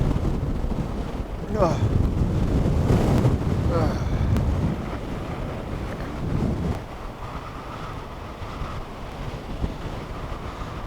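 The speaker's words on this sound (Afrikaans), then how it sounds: "Die wind is fenomenaal." Strong wind buffets the microphone on the summit of Mariepskop mountain, a loud continuous roar with gusts, and a voice speaks briefly over it early on.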